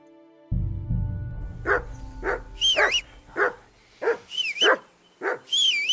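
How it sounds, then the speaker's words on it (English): Dog barking in the video game Kingdom Come: Deliverance 2, a series of sharp, close barks and yips in an irregular rhythm over a low background rumble. "whistle at that mutt of yours to stop barking."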